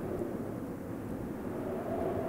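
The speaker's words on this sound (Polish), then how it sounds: "A to samolot, okej." An airplane in the Boogeyman horror video game drones as a steady low rumble, distant and continuous with no other sounds over it.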